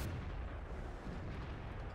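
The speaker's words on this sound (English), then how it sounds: "That shell went nowhere." A tank cannon shell fires in World of Tanks, heard as a dense, low, rumbling boom that fills the whole moment, steady and heavy with no voices over it.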